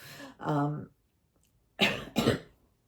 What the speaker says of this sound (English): Still got my cough.